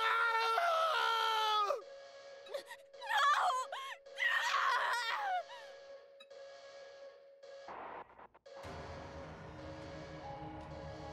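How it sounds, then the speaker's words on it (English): Scientists scream in agony in the video game Zanki Zero, strained anguished cries rising and falling for several seconds before giving way to a rumbling, low game ambience. "Familiar scientists scream out in agony."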